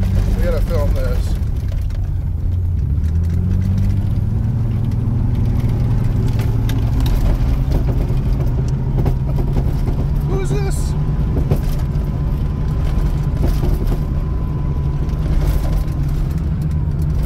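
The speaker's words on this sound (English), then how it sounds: "She's just going out to drive in the sand." A car engine rumbles steadily as it drives out onto sand where dirt bikes ride, a loud, close, low drone with the pitch rising and settling as it pulls away, joined by a few bumps and thuds.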